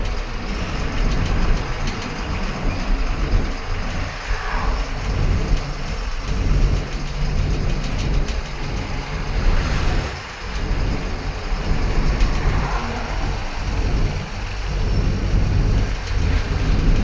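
Heavy rain pours steadily on surfaces in Tamil Nadu while low thunder rumbles, a loud, continuous roar filling the whole stretch with no talk.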